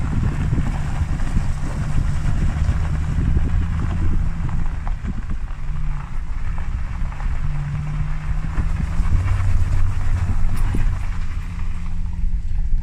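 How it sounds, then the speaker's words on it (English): A Ram truck's engine labours steadily up loose gravel grades, with a low, continuous rumble and a wash of tyre crunch and wind noise throughout, and no voices. "the truck's actually having to work to get up this loose gravel on these grades"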